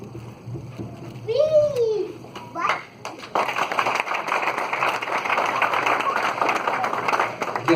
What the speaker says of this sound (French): I guess I don't have to speak now that I've been applauded for.